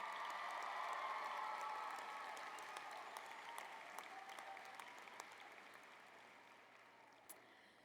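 Audience applause at a fall graduation ceremony, a broad, steady wash of many hands clapping at once. It starts loud and slowly fades over several seconds, with no voices over it.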